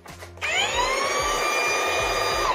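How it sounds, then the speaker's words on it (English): A Milwaukee Fuel cordless mud-mixing drill spins up and holds a steady, close, high motor whine while driving tent stakes into the ground, with a soft rhythmic knocking underneath. "This is a big old cordless mud mixing drill that has a powerful battery that is strong enough to screw in all of those stakes there."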